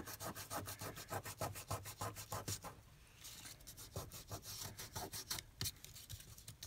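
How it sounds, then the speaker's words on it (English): Fingers rub dried ATG adhesive off a paper embellishment for an Easter junk journal, giving a rapid series of close, scratchy rasping strokes with a short pause midway, with no talking. "I'll put it on and then rub the ATG glue off"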